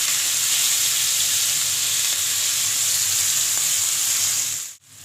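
Onion paste fries in hot oil in a pan, a loud continuous sizzle close by that cuts off abruptly near the end.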